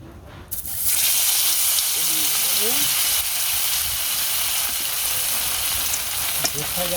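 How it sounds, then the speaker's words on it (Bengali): Koi fish frying in a village kitchen after eggplant, a steady loud sizzle running almost the whole time with faint voices and a few clinks of utensils beneath it. "কই মাছ ভাজা"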